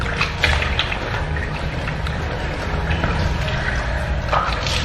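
Steady broadband rush of a tap running in a washroom as someone washes face and hands, continuous and fairly close with faint trickling detail throughout.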